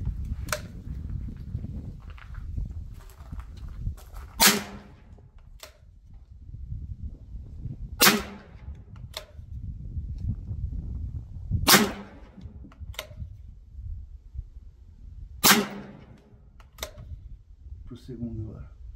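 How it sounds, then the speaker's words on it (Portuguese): Air rifle shots from a Rossi R8 6.35mm firing 51-grain pellets, four sharp cracks spaced a few seconds apart over low background rumble and talk. "Vou dar quatro disparos, depois mais quatro disparos."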